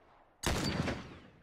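A sudden loud burst of gunfire in The Last of Us, a sharp blast followed by a rolling, decaying echo as the firing fades out.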